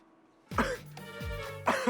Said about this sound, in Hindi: खांसी भी आ रही है